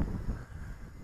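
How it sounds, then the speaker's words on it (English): Wind rushing across the microphone outdoors while a small RC helicopter flies, a steady low roar with buffeting, fairly quiet and brief. "Lots of wind."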